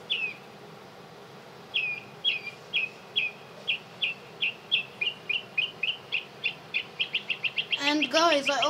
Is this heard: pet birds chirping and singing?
yes